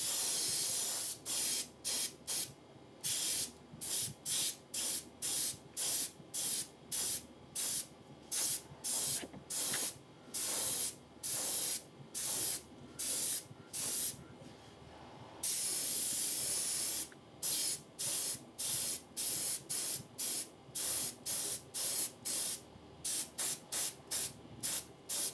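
Paint is sprayed onto a fishing lure in a burbot (lota lota) color, as a rapid series of short hissing bursts broken by brief pauses, with a few longer sustained sprays in between.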